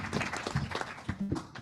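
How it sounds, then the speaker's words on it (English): Applause for a commission group at a plenary session of a mountaineering federation's general assembly, scattered individual claps from a modest crowd, fairly soft with uneven rhythm. "could we have a round of applause for the group"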